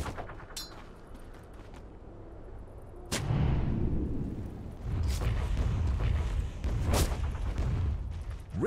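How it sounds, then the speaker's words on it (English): Tower under attack in the Dota 2 video game, with sharp impact cracks and a dense rumbling battle roar that swells after a few seconds, punctuated by several loud bursts. "Radiant's bottom tower under fire."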